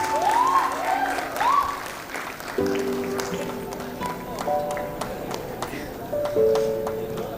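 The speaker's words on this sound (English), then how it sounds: "Round of applause for Singh Aman." At a Ramaiah Institute of Management convocation, an audience gives a graduate sustained, even applause, with thin tonal sounds and voices running underneath.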